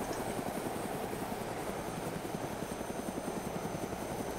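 A helicopter's rotor thumps in a rapid, steady beat with an engine drone in the video game DayZ Origins, heard continuously at a moderate distance.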